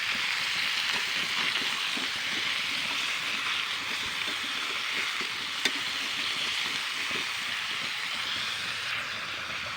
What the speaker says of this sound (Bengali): এবার আমি এগুলোকে কিন্তু ভালো করে কিন্তু কষিয়ে নেবো